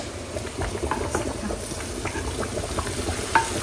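Panch phoron, cinnamon, cardamom, garlic and onion fry in hot oil as a tempering for a meat and dal dish, giving a steady close sizzle with scattered crackles and pops and no talk.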